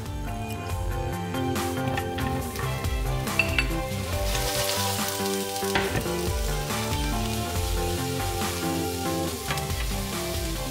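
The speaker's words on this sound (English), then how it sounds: "brown our onions in 1 to 2 tablespoons of olive oil until they're nice and browned" Onions browning in olive oil in a pan give a steady sizzle and frying hiss, with light stirring and occasional clinks of utensil against pan throughout.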